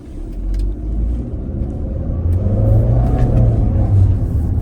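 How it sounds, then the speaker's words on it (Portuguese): A Caoa Chery Tiggo 7 Pro pulls away hard from a standstill, its engine rumbling up into a steady, building roar that stays close and loud for the whole stretch, with no voices over it. "Vamos tirar uma arrancada aqui para ver."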